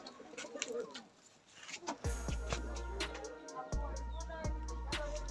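Kalsira Napta high flying pigeon, a male in a loft, cooing in repeated low throaty pulses, close and fairly loud, with other bird chirps and faint loft noise around it.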